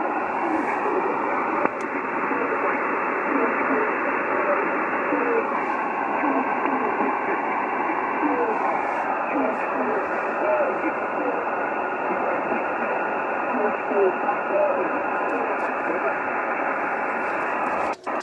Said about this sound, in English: the signal path is giving you this wobbly sort of fluttery sound